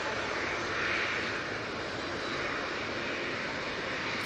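An EasyJet Airbus A320-200 takes off from Manchester Airport bound for Hamburg, a steady broadband jet engine roar that stays loud and continuous throughout, with a slight swell near the start and no voices.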